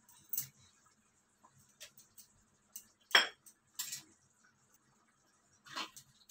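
A spoon stirring aloo gobi sabzi with coriander leaves in a pan, soft scattered scrapes and light metallic clinks at irregular intervals, quiet and close, with no speech.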